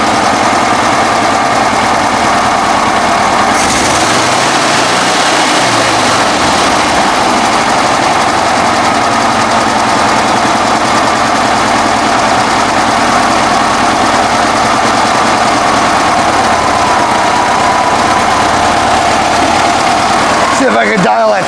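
A 1965 VW Bus engine idles steadily with a slight stutter, a continuous close rumble running throughout, with a brief louder burst at the very end.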